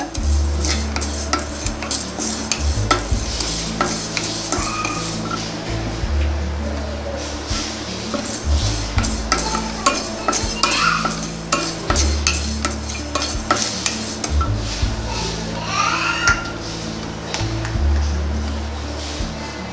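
Rice dry-roasting in a pan while being stirred, a long run of rhythmic scraping and rattling strokes of a spoon over the grains, with a low steady background hum throughout.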